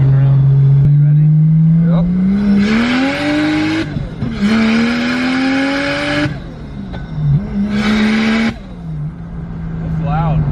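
A Nissan 370Z sports car engine revs up through gears, pitch climbing repeatedly between shifts, with a rough grinding edge from third gear; occupants talk and exclaim over the engine noise.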